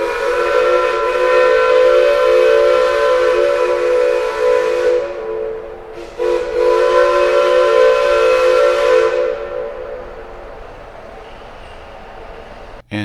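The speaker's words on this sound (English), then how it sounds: "we got to hear his playing of the steam whistle." A loud steam whistle on the Hillcrest #1 Shay locomotive blows two long blasts with a brief break between, a rich chord over hissing steam, then trails off.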